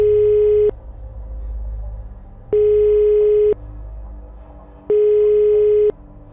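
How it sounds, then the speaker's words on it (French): A telephone call tone sounds as a sound effect, three evenly spaced long beeps about a second each, loud and clean, separated by quiet gaps with a low background drone. "j'ai quand même pu retrouver mon téléphone pour appeler Gabin"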